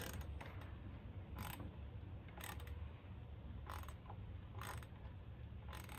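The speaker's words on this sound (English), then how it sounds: "So you don't want to over tighten this. It only needs 8 foot-pounds." A ratchet clicks in short bursts while a bolt on a BMW M2/M3/M4 oil cooler is snugged down to low torque, with pauses between strokes over a steady background hiss and no talk.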